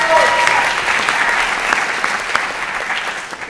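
Sustained audience applause at the Lean Impact Summit welcomes a CEO to the stage, a dense, loud wash of clapping that holds steady throughout with no voices above it.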